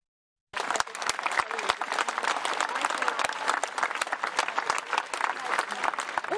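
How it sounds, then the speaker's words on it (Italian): Crowd on the square of the parish church in Cicagna greeting the arrival of the statue of Our Lady of Miracles with long, dense, continuous applause that starts suddenly and stays steady. "Un lungo e corale applauso ha accolto l'immagine di Nostra Signora dei Miracoli al suo arrivo sul piazzale della chiesa parrocchiale di Cicagna."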